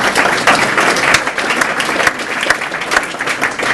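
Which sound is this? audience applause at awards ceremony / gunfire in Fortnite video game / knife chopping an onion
audience applause at awards ceremony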